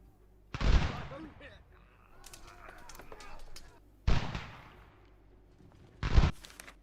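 Eight-inch mortar fire in the Ultimate General: American Revolution strategy game: three heavy, booming blasts, each with a deep thud and a rolling tail, spaced a few seconds apart, with faint battle noise in between.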